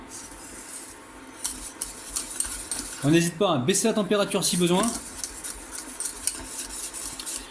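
Lemon cream thickened with cornstarch being stirred in a pan, a utensil scraping and clinking against the sides in quick bursts while someone talks over it.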